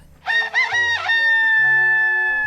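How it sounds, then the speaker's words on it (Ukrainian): A rooster crows once, loud and close, its call rising then held in a long ringing note. "І ось півень уперше закукурікав."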